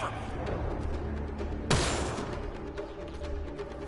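Gunfire in the video game Mass Effect Andromeda, a dense rattle of shots under a continuous noisy battle bed, with one sharper loud blast near the middle.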